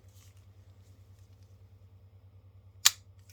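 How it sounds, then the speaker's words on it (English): A single sharp plastic click snaps close by near the end as the head of a 1984 Voltron toy clicks into place, standing out against a quiet, low background hum. "the head. That just clicks right down"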